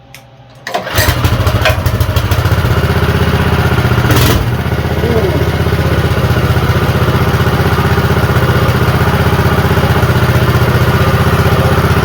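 A Baja Warrior mini bike engine with the choke on is pull-started with a quick yank, catching almost at once and settling into a loud, steady small-engine run close by.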